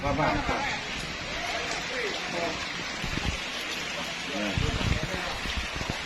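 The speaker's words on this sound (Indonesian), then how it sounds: "Untuk sampai saat ini situasi masih hujan." Steady rain falls during a flood in Wonosari, Ngalian, Semarang, a dense wash of patter with a voice talking over it and occasional bumps and knocks nearby.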